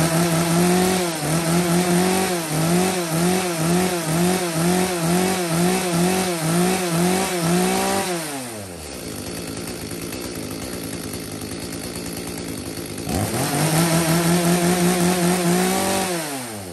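A used Japanese chainsaw runs close by, revving high with a rough buzzing drone, then drops to a lower idle for several seconds before revving up hard again, with no voices.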